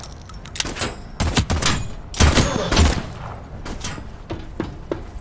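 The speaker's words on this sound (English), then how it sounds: "we'll actually shoot somebody" Repeated gunshots in a video game, sharp bursts of fire landing in irregular clusters, some loud and close, others fainter, with scattered thuds between them.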